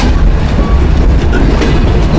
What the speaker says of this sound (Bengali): আমাদের আন্তনগর চিত্রা এক্সপ্রেস ট্রেনটি প্রবেশ করে খুলনার প্ল্যাটফর্মে।